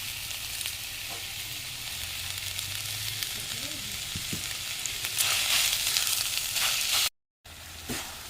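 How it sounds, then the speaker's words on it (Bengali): Grated coconut and sugar sizzling and frying in a wok as a sweet filling for palm momos, a steady broadband hiss with occasional stirring scrapes, close and continuous, broken by one brief cut near the end. "কড়াইতে নারকেল দিয়েছি,"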